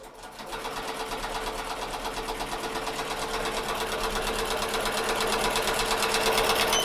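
An embroidery machine stitches a design on a T-shirt at low speed, with a 65/9 needle for micro embroidery. Its needle bar chatters in a rapid, even mechanical rhythm, close and continuous, and grows slightly louder over time.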